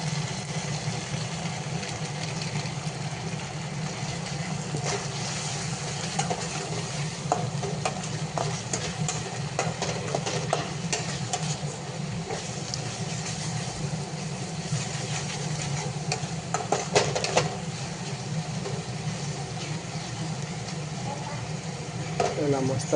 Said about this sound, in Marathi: आपली ग्रेव्ही आता मस्त शिजलेली आहे